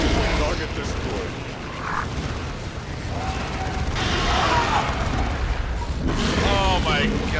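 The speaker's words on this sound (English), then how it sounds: "the assault cannon barrage is so fun to use on new hordes of infantry" Assault cannon barrage in Dawn of War II firing into infantry hordes, a sustained rattling, mechanical roar of rapid shots and booms that continues throughout, with louder bursts midway, under game noise and voices.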